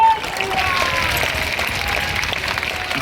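Audience applause at a large live religious gathering in Sydney, Australia, a dense steady wash of clapping that fills the whole stretch, with a faint voice and a tone running beneath it.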